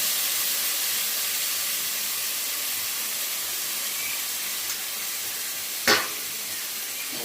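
Onion fries in hot oil for a meat curry, giving a steady, loud sizzle and hiss throughout. A single sharp clink or scrape of a utensil cuts in near the end.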